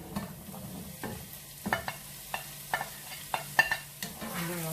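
Garlic and bell pepper fry quietly in a pan while a spoon stirs them, giving a soft sizzle with a string of sharp scraping taps at irregular intervals.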